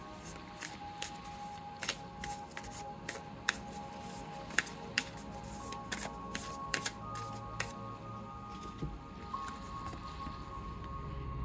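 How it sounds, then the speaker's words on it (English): Two separate decks of playing cards being shuffled, giving quick crisp riffling clicks and sharp snaps in irregular bursts, close and fairly quiet, with no talking. "Let's pick some cards today and see what pops out. It's two different decks."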